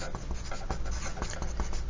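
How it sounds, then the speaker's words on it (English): A pencil writes a name at the top of a worksheet page, close-up scratchy strokes with quick taps and short pauses, nothing else audible. "let's go ahead and start by writing our names at the top of the paper."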